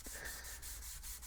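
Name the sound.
sanding carbon fiber with 400 grit sandpaper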